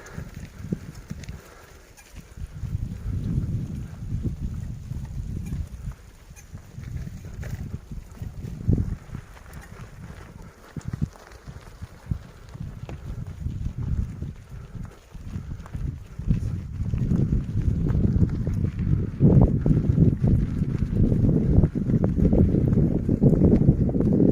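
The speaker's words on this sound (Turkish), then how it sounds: "Çok rüzgar var." Strong wind roars and buffets close to the microphone throughout during an off-road bicycle ride in a valley near Sille, with gusty rumbling growing heavier toward the end; no talking.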